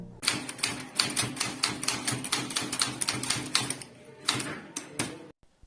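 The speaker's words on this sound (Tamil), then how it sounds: "ஷிஃப்ட்டை வந்து கீழே தள்ளிட்டு அதுக்கப்புறமா டைப் பண்ண ஆரம்பிச்சிட வேண்டியதான்" Rapid, steady keystrokes on an English typewriter, close and dry, with sharp clacks in a continuous run and a brief pause near the end, no voices.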